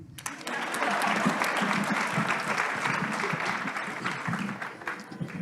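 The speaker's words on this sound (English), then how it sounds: "Can you clap hands for me?" A conference audience claps together, a sustained wash of many hands starting quickly and holding steady for several seconds before easing slightly, heard from a little distance.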